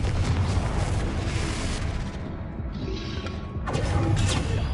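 Confringo blasting-spell explosions in the Hogwarts Legacy video game form a dense, continuous roar of booming bursts that dips briefly in the middle and then swells again, loud and heavy, with no talk.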